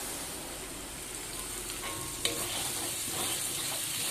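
Spice paste for snakehead fish mangut frying and being stirred in a pan, a steady soft sizzle with scraping strokes of the spoon throughout.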